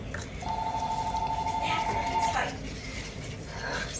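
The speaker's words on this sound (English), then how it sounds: "Sorry about the phone." A phone gives off a steady electronic tone for about two seconds, moderately loud over background room noise, with a brief clatter as it cuts off.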